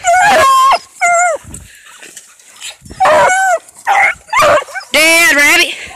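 A young hunting dog on a rabbit hunt gives a run of loud, close yipping barks and high whimpers in uneven bursts, with short pauses between them.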